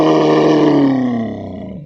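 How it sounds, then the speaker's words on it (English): A bison lets out a single loud, deep roar that slowly falls in pitch and fades, close and alone. "Bison."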